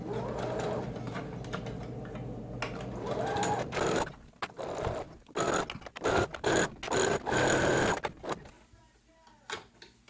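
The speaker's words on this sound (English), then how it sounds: "Now we're going to baste this together." A home sewing machine basting together the fabric pieces of a slipper, its motor whirring in uneven bursts with short stops and restarts, close and fairly loud, while a voice talks quietly over the first few seconds.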